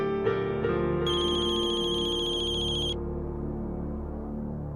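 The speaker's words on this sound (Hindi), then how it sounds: "अरे अर्जुन का ही फोन है।" A mobile phone ringtone plays a steady electronic tune, with a brighter chiming layer joining for about two seconds, continuous and fairly close with no talk over it.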